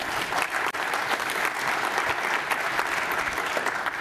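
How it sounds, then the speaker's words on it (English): A conference audience at the DENOG14 opening gives sponsors a round of applause: a loud, continuous wash of many hands clapping from start to finish. "Another round of applause,"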